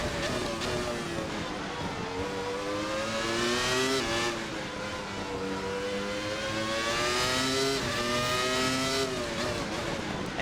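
A 1997 Williams FW19 Formula One car in a racing video game revs hard out of corners, its high-pitched engine climbing through rising gear sweeps, loud and continuous with brief dips between pulls.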